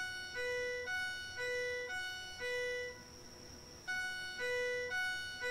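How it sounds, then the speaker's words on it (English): A fire alarm in a horror video game, a repeating electronic tone pattern with bright, clear beeps in a looping rhythm and a short gap midway, steady and fairly loud with no talking. "It's a fire alarm."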